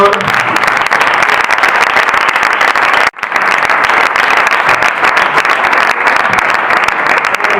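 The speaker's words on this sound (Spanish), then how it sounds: "Fuerte aplauso al Señor." Congregation applauding during a church service, a loud, sustained roar of clapping with a brief dip partway through before the dense applause resumes.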